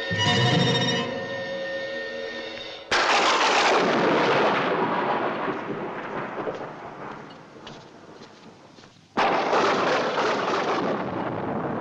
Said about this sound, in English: Quite a storm, isn't there?